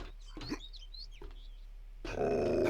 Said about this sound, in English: The dogs are up top.